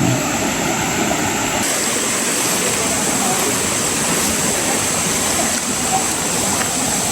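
A rocky mountain river rushes and gurgles steadily over stones, a loud, unbroken wash of water noise that fills the whole stretch with no pauses.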